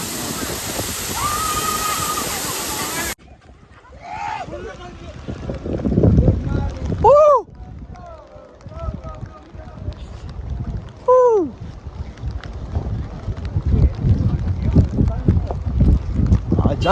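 Steady rushing roar of a waterfall at Amboli fills the scene, with wind buffeting the microphone and people talking and calling over it.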